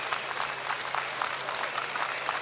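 A baseball crowd at a Winnipeg Goldeyes vs. Fargo-Moorhead RedHawks game applauds with steady, moderately distant clapping under a constant stadium hum.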